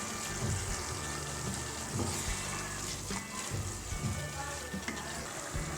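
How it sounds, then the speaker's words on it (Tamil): A pot of sambar, a South Indian lentil stew, bubbles and sizzles steadily, a dense close-up simmering hiss with faint pops, and no speech over it. "தண்ணி ஊற்றி கொதிக்குது"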